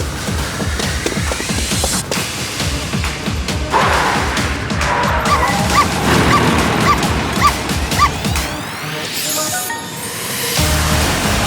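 A cartoon dog on a bulldozer barks and yips repeatedly amid loud, busy action sounds and engine rumble, with short whimpers between the barks.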